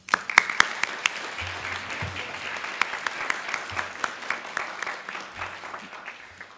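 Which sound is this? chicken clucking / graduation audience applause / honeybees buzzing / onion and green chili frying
graduation audience applause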